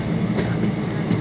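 A passenger train runs through the mango orchards of Malda, heard from inside a carriage as a steady close rumble with faint rhythmic wheel clicks throughout.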